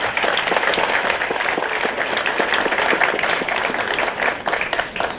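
Audience applause greeting the Minister for the Promotion of Women at a public gathering, a dense, steady wash of many hands clapping that holds loud and even for several seconds before easing slightly at the end.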